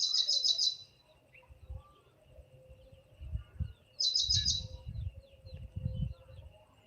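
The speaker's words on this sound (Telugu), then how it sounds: "ఆ పిట్ట అరిచినప్పుడు ఒక సామెత గుర్తొస్తది" A small bird gives two quick bursts of high, rapid chirping, one at the start and another a few seconds later, with soft low background rumbles in between.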